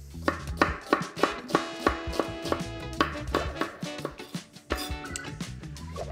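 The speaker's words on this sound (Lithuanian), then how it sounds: "tai yra svogūnas, svogūną supjaustau" Onion being finely chopped with a knife on a board, a steady run of crisp, close knife strikes falling about twice a second with a short pause near the middle, and no speech over it.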